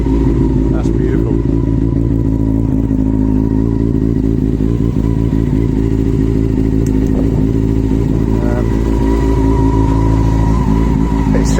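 A Honda CB400 Super Four motorcycle engine idling close up on all four cylinders, a loud, smooth, even burble with light mechanical clatter and small rev changes, sustained throughout.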